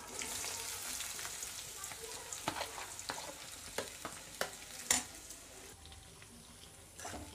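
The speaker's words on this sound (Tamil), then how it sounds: "இது நல்லா கிளறி விடுங்க இது ஒரு நிமிஷம் வதங்கட்டும்" Potatoes fry with curry leaves in a pan, giving a continuous soft sizzle punctuated by scattered clinks and scrapes of stirring, moderately close and without speech.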